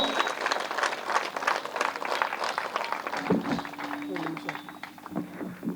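At a pyramid opening event, an audience claps loudly and energetically in a dense burst that continues for several seconds, with voices and a humming tone underneath as the applause thins toward the end.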